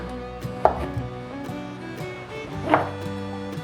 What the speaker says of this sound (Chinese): 把杏鲍菇切成条状